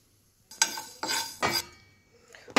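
Fenugreek seeds dry-roasting in a pan for pickle masala: a few sharp scraping, rattling stirs of a spoon against the pan, separated by quiet pauses, close and alone without talk.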